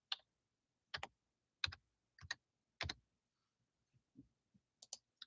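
A computer keyboard is tapped in sparse, separate clicks, several sharp keystrokes spaced about a second apart, then a few softer taps, all close and quiet against near silence.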